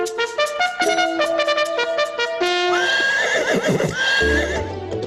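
A horse in a race gives a loud, long whinny over quick clip-clopping hooves, heard close and alone with no talk, with the neigh rising and wavering toward the end.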